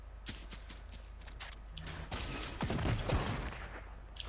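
Gunfire in the video game Fortnite, several shots and short bursts at moderate distance mixed with mechanical clicks and rattles, fairly quiet overall, ending with a sharp loud hit.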